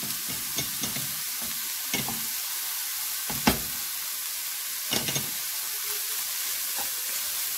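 Pastilla filling fries in a pan with olives, herbs and a little harissa, giving a steady close sizzle and hiss. Occasional stirring knocks and scrapes break through.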